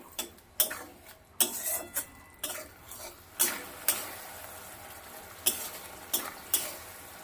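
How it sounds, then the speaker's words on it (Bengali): Masala is sautéed in a pan on a medium flame, with sharp spatula scrapes and knocks in an irregular rhythm over a soft, continuous sizzle. "ফ্লেমটা মিডিয়াম করে রেখে মশলাটাকে ভালোভাবে কষিয়ে নিতে হবে"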